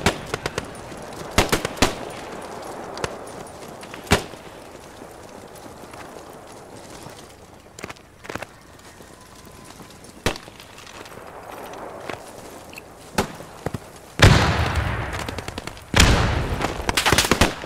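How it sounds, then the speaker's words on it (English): Gunfire in the World War II shooter Post Scriptum during close-quarters fighting at Arnhem, with sharp single shots and bursts spread across the clip, growing louder and denser toward the end. "Enemy fire!"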